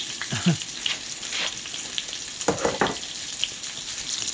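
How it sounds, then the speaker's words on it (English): Brussels sprouts and okra stir-fry in a pan, a soft, continuous sizzle with a few scattered crackles and stirring scrapes, fairly close and without talk. "And let that cook and stir fry."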